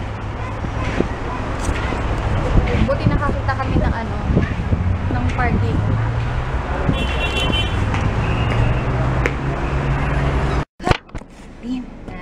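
Busy traffic of many cars at a crowded Shell station parking lot, with idling engines, passing vehicles and a horn toot under nearby talking, ending in a sharp knock or door thump.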